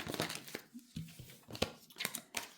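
Tarot cards are drawn and handled from a deck in quick papery bursts: several crisp snaps, rustles and slides in an irregular rhythm, close and fairly quiet.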